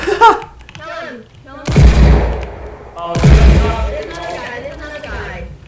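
Two heavy, booming Desert Eagle pistol shots in a video game, loud and close, separated by about a second and a half, each with a long echoing tail, with a voice talking briefly before the first shot.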